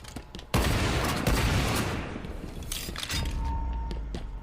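Rocket launcher firing in the video game Halo 5, a sudden loud blast followed by a long rumbling roar, then a second heavier thump near the end, with no talk over it.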